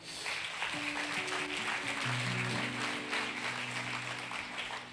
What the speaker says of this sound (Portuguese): Vamos aplaudir o Senhor pelo meu time aqui